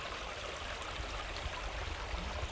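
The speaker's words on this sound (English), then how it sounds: "You got water running through the campsite like that" A small stream runs through a campsite at Robbers Cave State Park, its steady close babble and gurgle continuing evenly with no voices over it.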